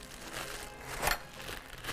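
Clean plastic freezer bag crinkling and rustling during olive preparation in a kitchen, a soft continuous crackle with one sharper crunch midway, close and fairly quiet, no talking.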